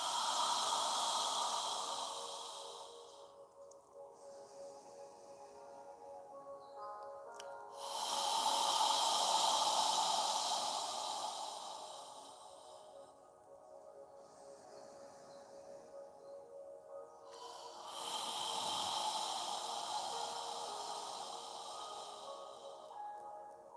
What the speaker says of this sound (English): We're going to inhale through our nose and exhale through our mouth.